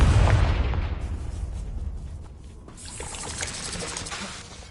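Confringo blasting spell cast in Hogwarts Legacy on PS5: a loud, booming burst opens, fading into a rumbling, crackling tail and scattered debris-like clatter that lingers throughout.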